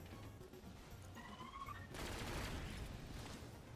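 Rapid bursts of War Machine rocket rounds fire in a video game, a dense crackling barrage that swells loudly partway through and keeps roaring to the end, with a few whistling tones before it.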